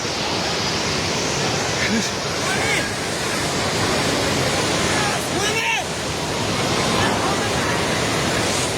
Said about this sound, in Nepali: पानी नजिक आइसकेको छ